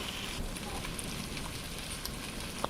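Poppy seed and nut paste fries in a pan for a restaurant-style chicken roast, a faint, dense crackle and sizzle running steadily at low level.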